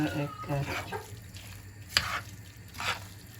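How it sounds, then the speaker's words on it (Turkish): A filling stirred with a spoon after lemon juice is added, with short soft scraping strokes and a faint sizzle, including one quick sharp tap, heard up close and quiet. "Güzelce şimdi karıştırıyor."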